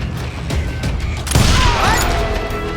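Gunfire in the Western shooter Call of Juarez: Gunslinger, a burst of loud close shots around a sharp crash with a ringing ricochet-like whine trailing after, over a busy background of battle noise.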